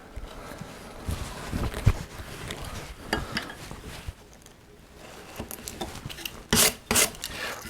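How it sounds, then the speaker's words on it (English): A fishtail gouge pares across a small wooden rosette boss in short, close rasping strokes, scraping and rubbing at an irregular rhythm, with a couple of louder knocks near the end. "we can round over this little boss here with the fishtail gouge, working downhill."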